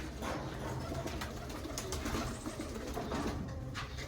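Teddy pigeons in a loft produce soft, low cooing amid a dense rustling, scratchy background, faint and continuous with brief clicks and flutters throughout.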